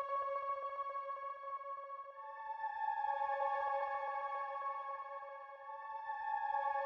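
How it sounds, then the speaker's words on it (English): An ambient bell pad from the Kontakt Atom bank's Oxygen preset, for a dark drill beat, rings in long sustained tones with a soft shimmer, quiet and alone, panned to the right. "So yeah, that's it for that bell sound."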